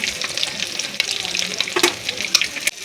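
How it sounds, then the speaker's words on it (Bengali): Egg frying in a pan for a soybean egg gravy, a close crackling sizzle with sharp pops and spatters throughout. "এই যে ডিম ভাজা হয়ে গেছে"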